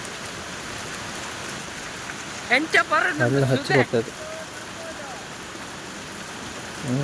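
Steady heavy rain hisses throughout, with a short burst of a person speaking over it in the middle.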